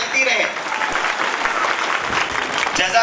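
Enthusiastic audience applause at a school Independence Day celebration, a continuous crowd of clapping hands filling the hall for a few seconds, with a voice briefly heard through it.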